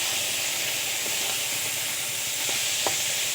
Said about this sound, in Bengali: টমেটোগুলো খুব ভালো করে মিশিয়ে নেব।